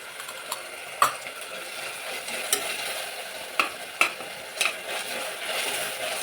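Tomato and ginger garlic paste frying in a pan, a soft continuous sizzle punctuated by several sharp clinks and scrapes of a spoon stirring against the metal at irregular intervals.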